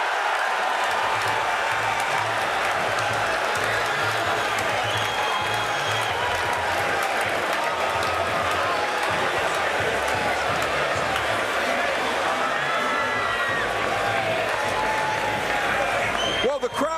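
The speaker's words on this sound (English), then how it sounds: "Well, the crowd loves it" Arena crowd at the 2009 NBA Draft, reacting to a pick with a loud, sustained roar and cheering that carries on steadily, with a voice speaking over the noise.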